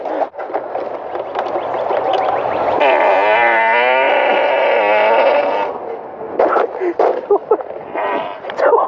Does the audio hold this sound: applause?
no